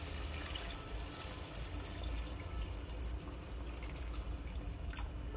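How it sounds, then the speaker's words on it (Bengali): Water pours steadily into a pot of hilsa fish curry cooking with malabar spinach, a continuous close splashing stream with no talk. "এখন দিয়ে দিব জল।"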